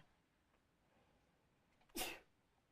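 One quick, sharp sneeze rings out against a quiet room, brief and fairly close.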